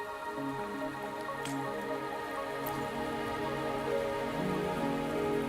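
Rain falls steadily in the video game Wuthering Waves, drops pattering on surfaces beneath sustained tonal game music, with no voices.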